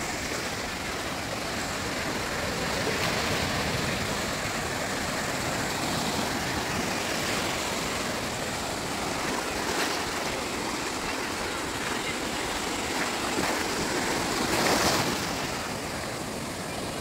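Broadband wash of surf at Murudeshwar Beach in Karnataka, steady and fairly loud across the whole stretch with a few slightly stronger swells, no clear speech over it.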